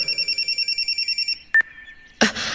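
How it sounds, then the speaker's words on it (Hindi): A phone rings in a repeating electronic trill of about a dozen quick pulses, then stops, followed by a short beep and a brief clatter, all close and clear with no talk. "और तभी मेरा फोन बजा।"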